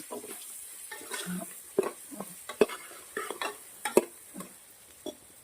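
Spices being stirred in a pan for methi khichdi: a spoon scrapes and taps against the pan in irregular bursts over a faint, soft sizzle, fairly close and with no voices.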